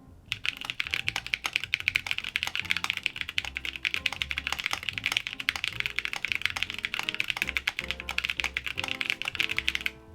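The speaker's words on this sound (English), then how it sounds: "I'm so not used to typing on tactile." Fast, steady typing on a Geonworks W1-AT mechanical keyboard with lubed tactile Corsa switches and PBT keycaps, a dense stream of close, crisp clacks and taps with no voices.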